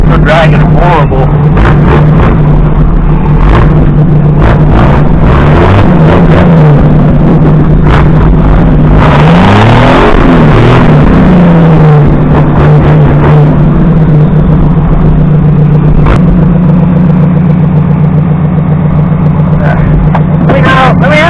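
A loud, rough Nissan engine drones and labors steadily while driving with badly dragging front brakes, wind buffeting the microphone, while people talk and shout over it.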